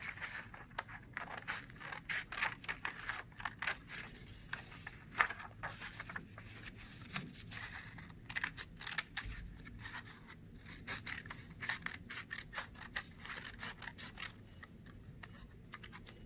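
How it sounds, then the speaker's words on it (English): Scissors snip through a small tree branch, giving a quiet, steady run of sharp clicks and scratchy cuts close by with no talking. "I'm going to cut the branch."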